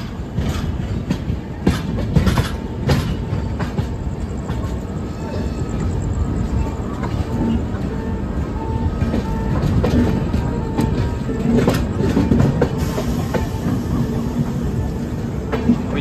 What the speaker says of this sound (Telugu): అటు నుండి లోకల్ ట్రైన్ వస్తుంది. నాకు తెలిసి విజయవాడ రాజమండ్రి మెమూ ట్రైన్ అనుకుంటా.